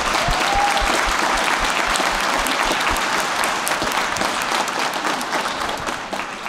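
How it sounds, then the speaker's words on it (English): Audience applause at a high school spring concert, loud dense clapping from a full crowd that holds steady throughout and thins slightly toward the end. "if we want to give him a round of applause"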